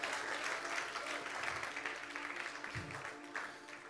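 Church congregation clapping loudly for the Lord during a French-language worship service, a steady dense wash of applause from many hands at moderate distance, with a few low thumps and no clear speech.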